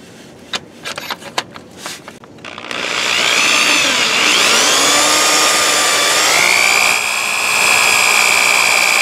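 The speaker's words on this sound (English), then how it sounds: "So, put my drill in the hole." A few sharp clicks and knocks give way to a loud, sustained drill whine boring into a metal block, shifting in pitch as it works, close and continuous.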